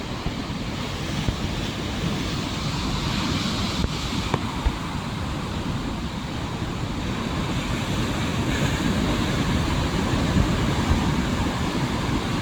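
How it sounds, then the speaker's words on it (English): Powerful ocean surf crashing continuously onto the rocky shore at Ajuy, Fuerteventura in the Canary Islands, loud and close with a steady roar and wind buffeting the microphone throughout. "How powerful the sea is today."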